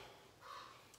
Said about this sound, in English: Y'all hear that big crow in the background?